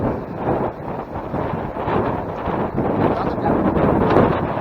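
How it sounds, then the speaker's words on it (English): Strong wind buffets the microphone on a cold hiking trail at Stenner Creek, San Luis Obispo, California, a loud continuous roaring rumble with gusty swells and no speech. "It's really windy and it is a little cold too."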